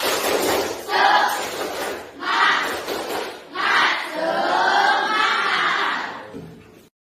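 An elementary class in a religious education lesson performs a spirit clap chant, children shouting loud rhythmic syllables in unison in several bursts with short pauses, ending in a longer drawn-out group cry.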